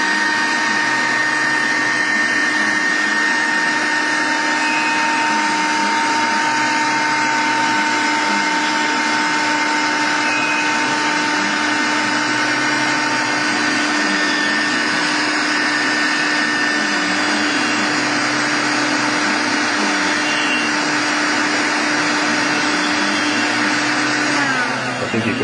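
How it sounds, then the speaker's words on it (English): A shop vac roars steadily at close range for about 25 seconds, a loud continuous whine with a low droning hum, then cuts off abruptly near the end. "I think you can tell once the shop vac stopped making a noise"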